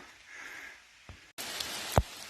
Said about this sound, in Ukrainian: Дощ починається нам.